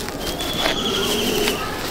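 Pigeons coo in a loft in Durgapur, soft repeated throaty calls close by, with a faint murmur of background noise beneath them.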